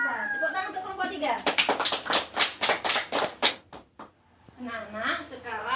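A classroom of pupils claps for a presenting group in a quick rhythmic burst of distinct, evenly spaced claps, near and fairly loud, with voices talking before and after.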